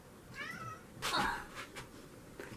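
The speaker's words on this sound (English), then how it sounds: "My cat's crying." A cat meows close by, one short rising cry followed by a louder, longer wail, with faint background noise.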